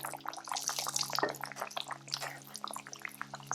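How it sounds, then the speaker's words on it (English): Dumpling dough dropped gently into hot frying oil, a dense crackling sizzle with scattered pops over a steady hum, close and moderately loud. "Drop it gently into the oil."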